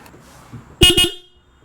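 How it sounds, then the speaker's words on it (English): A newly installed horn on a car sold as a Focus RS is tested with two short, loud honks in quick succession, close by and alone. "So anyways, I got my horn hooked up."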